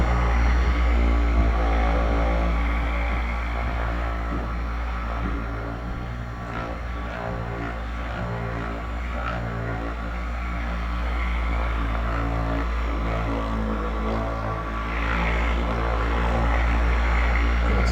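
A cordless handheld massager runs steadily throughout, a close, continuous motor hum with strong low buzzing tones that barely change over the whole stretch.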